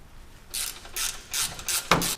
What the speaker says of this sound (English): Now with a 14mm socket or wrench, remove the 3 factory strut nuts.